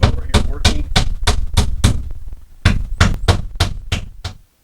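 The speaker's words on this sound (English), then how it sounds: "I'm just banging the nails, side nails back through, so we can pull them out from the outside" A hammer bangs nails back through wooden wall studs during an exterior door installation, two rapid bursts of loud, close, evenly spaced blows with a short pause between them.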